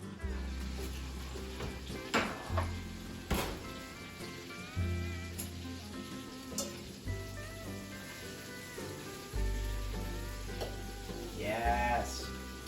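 Steady sizzling and crackling of chicken oven-frying runs throughout, with occasional clinks and scraping of utensils over a low background hum.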